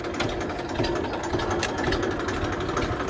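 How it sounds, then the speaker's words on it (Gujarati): A tractor engine idles nearby with a steady, rapid chugging rumble and rattling vibration, loud and continuous throughout, with no voices. "ટ્રેક્ટર ચાલુ થઈ ગયું છે"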